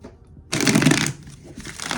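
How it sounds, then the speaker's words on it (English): Tarot cards being shuffled by hand, a single close papery riffle of about half a second that trails off into quieter rustling. "So I'm going to go ahead and shuffle."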